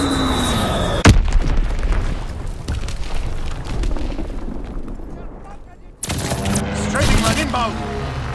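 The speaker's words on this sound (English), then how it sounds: "Fritz X bomb mission underway." Heavy explosions from a Fritz X guided bomb strike in a wartime video game: a sharp blast near the one-second mark, then a long rumbling, crackling roar and another loud burst with sirens and game radio voices layered over it.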